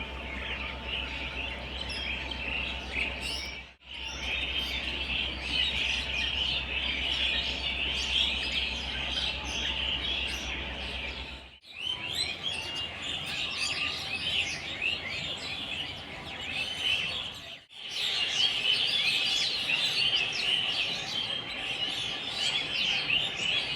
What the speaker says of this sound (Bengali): সব পাখিগুলো দেখো এই গাছে ওই গাছে ওই ঘরগুলোতে এখন গিয়েছে